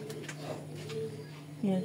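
A pair of racing pigeons coo softly and close by in a steady, low murmur, with a clearer coo near the end under a voice.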